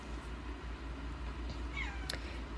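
Domestic cat giving a single short meow indoors, soft and moderately close over a steady low room hum.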